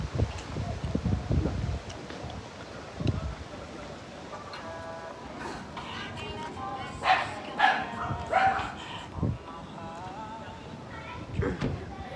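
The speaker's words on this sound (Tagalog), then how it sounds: "yung aso. Aso mo." Dog barking outdoors, several sharp barks and yips scattered through the middle and end, moderately close, amid rustling, wind and people talking.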